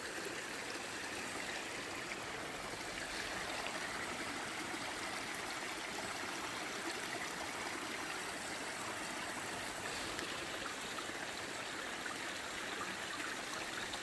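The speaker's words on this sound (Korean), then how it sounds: "시냇물 소리가 너무너무 좋아요." A babbling mountain stream at Yumyeongsan's native plant garden, with water trickling and gurgling steadily and evenly throughout, close by, with no voices.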